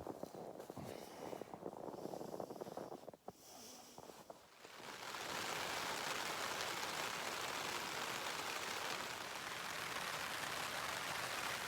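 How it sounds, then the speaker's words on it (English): Steady rain falls outdoors on the Pacific Crest Trail near Bend on a warm night, beginning after a few seconds of scattered noises and settling into a dense, even hiss. "It's raining."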